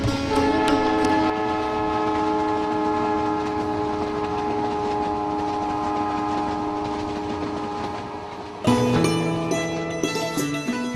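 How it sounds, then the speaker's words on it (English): Palace on Wheels luxury train travelling to Bharatpur in Rajasthan: a steady loud rumble of the rolling train with sustained horn-like tones throughout, shifting abruptly near the end. "as the train takes you to Bharatpur, a legendary city also called the Gateway of Rajasthan"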